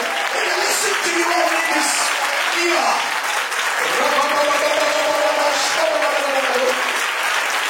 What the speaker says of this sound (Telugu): అందరూ ఒకసారి గట్టిగా చప్పట్లు కొట్టుకుంటున్నారు.